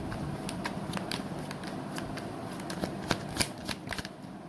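Tarot cards being shuffled by hand, a steady papery riffle with sharp snapping flicks near the end, close and alone with no speech over it.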